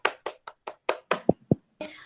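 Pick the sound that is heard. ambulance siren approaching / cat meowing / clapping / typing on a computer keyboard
clapping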